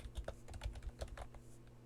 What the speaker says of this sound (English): That was me typing, and I just hit the microphone.